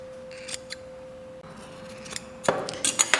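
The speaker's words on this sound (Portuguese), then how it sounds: "Eu corto essas pontinhas aqui, para tirar o excesso" Scissors snip the excess fabric from the corners of a shirt collar during sewing, a few crisp close cuts clustered near the end after quieter handling sounds.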